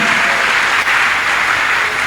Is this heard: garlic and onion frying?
no